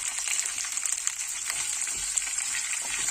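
Ginger pieces sautéing in a pan for cucumber chutney, a bright, busy hiss of hot oil with fine crackles, steady and close, with no voices.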